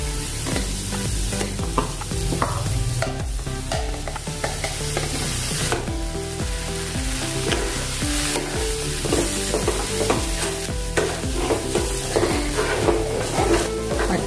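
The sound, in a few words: stirring potato puree into fried masala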